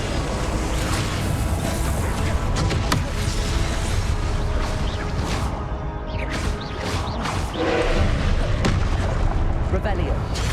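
An Incendio fire spell is cast in Hogwarts Legacy amid a loud, busy stretch of magical combat, with blasts, crackling bursts and booming impacts over the whole stretch and a voice talking over it.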